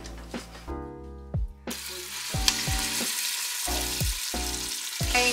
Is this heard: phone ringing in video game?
no